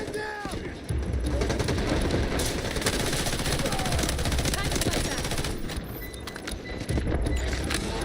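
Gunfire and a grenade launch in an objective-capture military shooter video game, a dense, loud, continuous barrage of shots and blasts that runs almost unbroken for the whole stretch.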